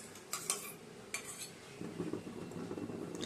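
A utensil stirs prawns into a paste of mustard, poppy seed and chilli, giving soft scraping and clinking knocks against the pot, close and faint in a quiet kitchen, with sharper taps near the start.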